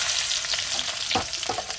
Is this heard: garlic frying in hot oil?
yes